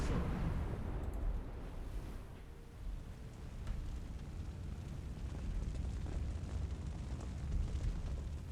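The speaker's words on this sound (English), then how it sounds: "they're shot at with heavy artillery" Heavy artillery fire in the submarine game Silent Hunter 4: a sustained, loud rumbling barrage of deep booms and crackling blasts that rolls on with little pause.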